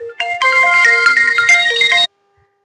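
A mobile phone ringtone plays loud and close as a bright looping electronic melody for about two seconds, then cuts off into silence.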